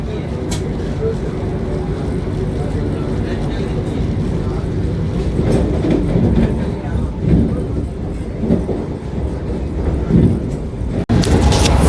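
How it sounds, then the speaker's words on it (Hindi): Vande Bharat express on the Firozpur–Delhi run speeding past Karnal railway station, heard as a loud continuous rumble of wheels and wind, with a sustained horn rising over the noise. "सो वंदे भारत अब कॉन्स्टेंटली हॉन्ग करके अब हम स्किप करने वाले हैं करनाल रेलवे स्टेशन।"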